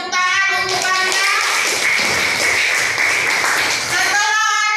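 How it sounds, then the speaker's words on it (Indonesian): Children in a classroom clap for a classmate in a dense, continuous burst lasting several seconds, loud and near, with a teacher's voice speaking briefly at the start and end. "beri tepuk tangan untuk Bangga."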